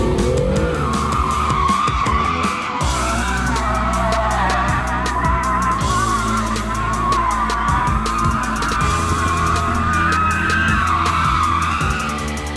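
BMW car doing donuts, engine roaring under sustained tire skidding and squealing that rises and falls as it circles, loud and continuous throughout.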